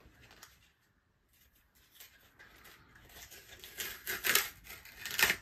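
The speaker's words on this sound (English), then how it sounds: "Do you want to rip it?" A gift package being ripped open, with quiet rustling that turns into louder, sharp tearing and crinkling bursts toward the end.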